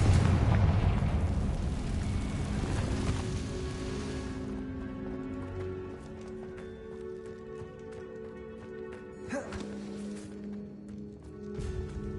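A Confringo spell explosion in the Hogwarts Legacy video game, inside a cave: a loud, dense blast opens the clip and rumbles on for several seconds, then fades to a lower roiling tail with a few smaller crackling hits.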